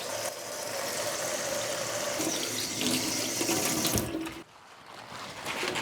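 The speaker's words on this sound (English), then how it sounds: "I'll rinse them, and I'll give them a bit of a shake here in the sink." Tap water runs steadily into a kitchen sink as produce is rinsed, a close, continuous gush that briefly dips and shifts while the produce is shaken, then picks back up.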